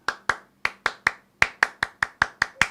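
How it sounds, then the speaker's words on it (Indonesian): Tepuk pramuka, the Indonesian scout clapping routine, performed by hand in a podcast studio: sharp, close claps in a patterned rhythm, a group of three, a short pause, then a quicker run of claps. "Tepuk pramuka."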